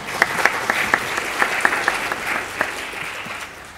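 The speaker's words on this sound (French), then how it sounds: "On les applaudit quand même." A conference audience at a city food-supply colloquium breaks into applause, a dense, steady wash of many hands clapping at close range, with sharper individual claps standing out throughout.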